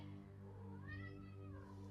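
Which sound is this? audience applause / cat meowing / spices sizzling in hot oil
cat meowing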